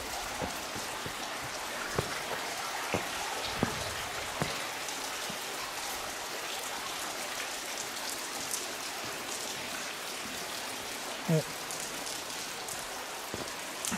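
Water from a small waterfall runs steadily on a damp bush trail at Grand Canyon Track, Blackheath, a continuous broadband wash with scattered drips and footstep knocks; one brief word is spoken.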